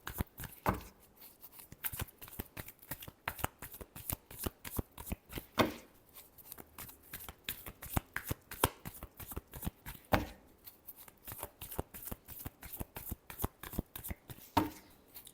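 Tarot cards are shuffled by hand in a long run of crisp, rapid riffling flicks and slaps, close and fairly quiet, with brief pauses between bursts.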